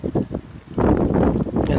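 Wind gusts buffet a microphone outdoors in loud, low, rumbling bursts that come and go over a couple of seconds.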